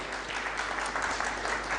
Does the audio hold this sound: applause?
yes